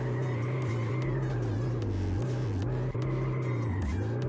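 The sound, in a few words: car drifting in a drift video game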